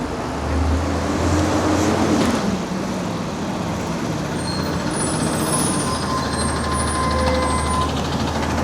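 On a city street, a garbage truck rumbles past with a loud, steady low roar and engine drone, joined by a brief rising whine and a faint high squeal, heard from a bike amid continuous traffic noise.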